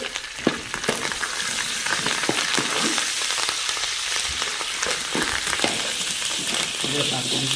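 Paper poha chivda frying in hot oil with curry leaves in a large pan, a dense continuous close sizzle with scattered stirring clicks and faint speech underneath.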